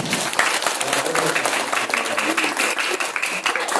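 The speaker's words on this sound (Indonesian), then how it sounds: "Tepuk tangan buat Faiz" An audience at an Islamic religious gathering claps for a child named Faiz, a loud, dense burst of many hands applauding steadily, with some voices mixed in.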